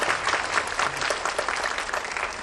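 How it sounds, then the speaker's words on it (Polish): Audience clapping fills a short stretch at a school event, a dense, steady applause throughout with no voices standing out. "Brawa dla Julii"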